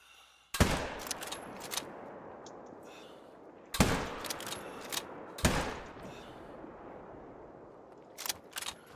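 Rifle shots in the hunting game Call of the Wild crack out sharply, three loud reports with gaps between them, each trailing into echo, followed by softer clicks and rattles.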